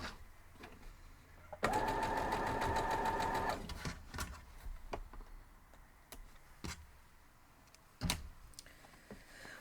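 Sewing machine stitching small quilt pieces for a paradox quilt block: a close, buzzing run of rapid stitching lasting about two seconds, followed by scattered light clicks and handling taps.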